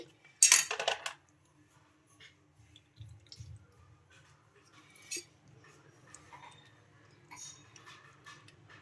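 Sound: cutting lemons with a knife

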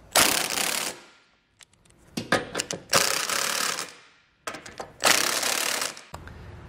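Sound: impact wrench snugging trailer hitch bolts

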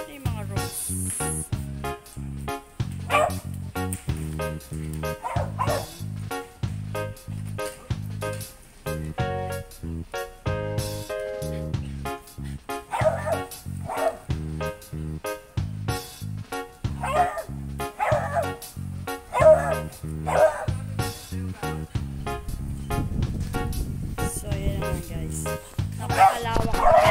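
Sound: dog barking

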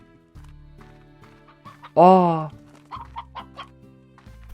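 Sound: chickens clucking in a video game

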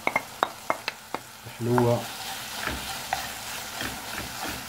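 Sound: stirring kofta sauce with olives and peppers in pan

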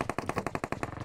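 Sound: shotgun firing in PUBG Mobile video game

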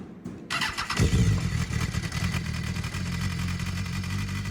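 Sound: sport motorcycle engine starting and running

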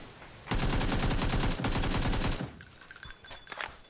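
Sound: AKM rifle without attachments firing in PUBG video game

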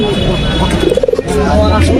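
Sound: pigeons cooing at a pigeon market

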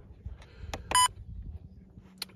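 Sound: wildlife camera beep sound

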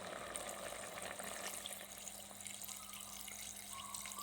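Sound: water being added to bamboo shoot chicken curry pot

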